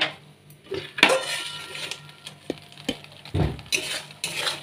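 A utensil scrapes and knocks in a pan while chilli sauce thickened with cornflour slurry is stirred, irregular clatters and swishes close up with no talk.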